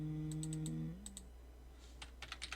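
Computer keyboard keys clicked in Adobe Illustrator for an undo shortcut: a few quick light taps, then a denser cluster of clicks, close and clear after a fading tonal sound, with no talk.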